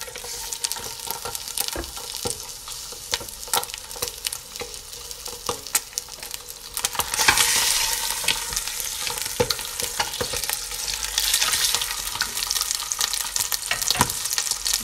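Meat browning in butter in a pan for a pea, broad bean and vegetable couscous, a steady close sizzle that grows louder partway through, with occasional stirring scrapes.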